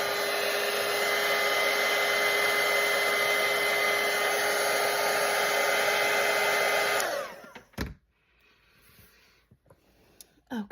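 A hair dryer blows over a watercolor painting in a loud, steady roar for about seven seconds, then cuts off, leaving faint handling noises.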